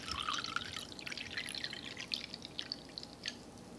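A cup of water is poured into a bowl, a soft, faint splashing trickle that runs steadily for a few seconds and then tapers off, with no talking over it.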